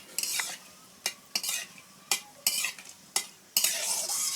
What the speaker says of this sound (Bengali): বাদামটা ভাজছি, এমনি কাঠখোলায়, বালি দিইনি